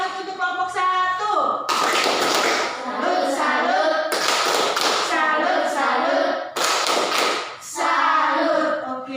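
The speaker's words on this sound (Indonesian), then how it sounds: "Tepuk salut untuk kelompok 1" A primary-school class in Magekoba, Detukeli claps a salute for group 1, loud rhythmic bursts of clapping mixed with children's chanting voices, set close in a classroom.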